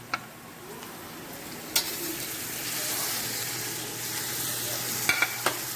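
Onions and cumin (jeera) seeds frying in oil for a Trini chicken biryani, a steady broad sizzle running throughout with a few sharp clinks of a spoon stirring the pan.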